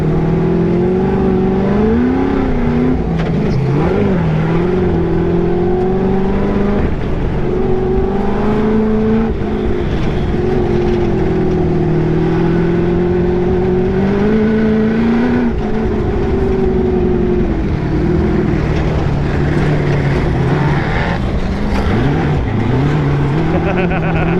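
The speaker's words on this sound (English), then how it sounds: "Fixed the sandrail, and now we're back on trail." A Corvette-engined sandrail drives across the sand dunes of Glamis with a loud, continuous engine roar that rises and falls in pitch as it revs and shifts, close and steady throughout.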